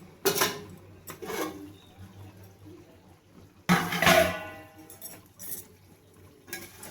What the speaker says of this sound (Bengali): এবার ঢাকাটা খুলে দেখে নেব।